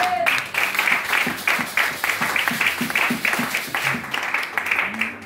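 A church congregation applauding the Lord, with irregular bursts of clapping from a group rising and falling across the few seconds, close and lively, with voices mixed in.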